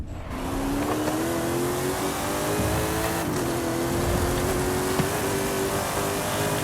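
A loud 665-horsepower V8 of a Mercedes-AMG Hammer Wagon in Forza Horizon 5 roars continuously at high revs, its pitch climbing slowly with a rough, racing growl and no voices.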